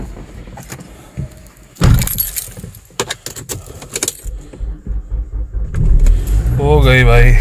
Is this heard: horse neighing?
no